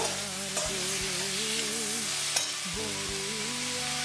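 Chicken with chicken masala sautéing in a kadai for a Bengali-style chicken curry: a steady close sizzle with occasional stirring scrapes and clicks, while a melody plays in the background.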